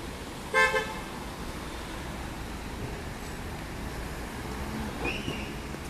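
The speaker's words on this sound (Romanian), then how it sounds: "bine că traficul nu e foarte intens și mașinile poate să ocolească" Car traffic rolls steadily through a city-centre intersection on a street in Bucharest, a constant moderate roadway rumble, with a short car horn toot early on and a faint second toot near the end.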